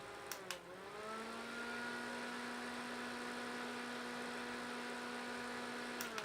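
A small handheld mini fan runs steadily at its third speed setting, giving a close, constant whirring hum with a fixed motor tone and a soft airy hiss, and no voices.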